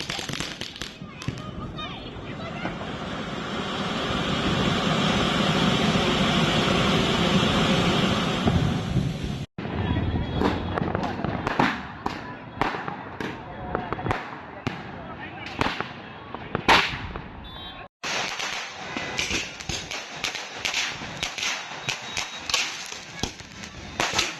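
Diwali firecrackers and fireworks burst repeatedly at night in Bhavnagar, sharp cracks and booming pops in irregular volleys, some near and loud, others distant, with faint voices underneath.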